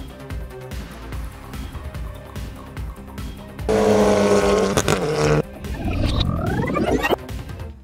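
Loud engine roar from a Hyundai i20 N and a Mini Cooper GP2 in a drag race, rising and revving with gear changes, a strong burst in the middle as the cars push hard side by side.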